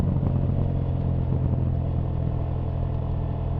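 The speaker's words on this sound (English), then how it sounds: "It has a chirpy note to it." Husqvarna Svartpilen 801 motorcycle engine running steadily, a loud, constant throbbing exhaust drone with a buzzy edge, recorded close from a rider's backpack with no talking over it.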